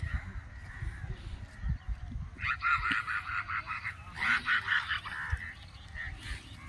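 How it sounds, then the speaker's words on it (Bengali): Crows caw in short bursts across a rural village, a cluster of calls rising in the middle and again toward the end over faint background ambience. "দেখুন কাকগুলো উড়ে চলেছে গ্রামের পথ ধরে"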